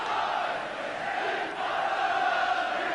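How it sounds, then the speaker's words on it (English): Local supporters' crowd noise fills a football ground during a 1993 Sunderland v Aston Villa Coca-Cola Cup match: a steady, loud wash of applause and cheering from the stands with no clear voices rising above it. "Gordon Armstrong takes the applause of the local supporters here"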